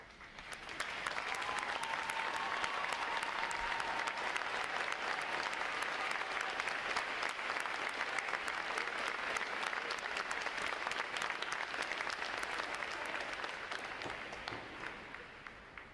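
Sustained applause from a large crowd at a Navy boot camp graduation, steady and loud for the whole stretch, with dense overlapping claps and no talking.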